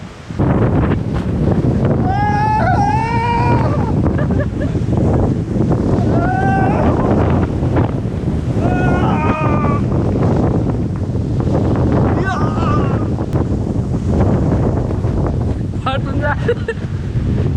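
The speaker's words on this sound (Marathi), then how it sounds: "वारं किती जोरात सुरू आहे बघा." Strong wind roars steadily across a high hill during heavy rain, buffeting the microphone with a loud constant rumble while a person speaks over it at times.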